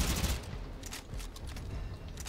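Aksomati gun firing in Warframe, a fast and continuous stream of shots with crackling impacts, loud and close and running throughout.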